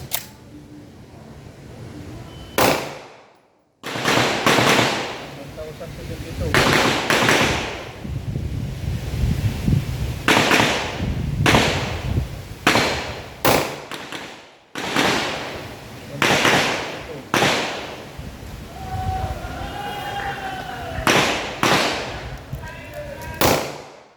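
Gunshots fire test loads over a shooting chronograph: about a dozen sharp, loud reports at irregular intervals, each ringing briefly, with voices talking between shots.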